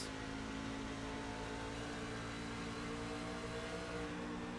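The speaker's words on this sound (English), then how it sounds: "You can hear the throttles pushed in." A race truck engine drones steadily at high throttle at Dover, heard from the cockpit, a dense continuous roar with harmonic layers and no pauses, loud and close throughout.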